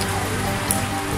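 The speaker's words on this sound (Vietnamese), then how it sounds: "Bà con đều đứng ở dưới trời mưa." Steady rain falling outdoors in Phu Trinh, Phan Thiet, where residents wait during a COVID-19 testing round: a dense, continuous hiss of drops on surfaces with no voices, even and unbroken throughout.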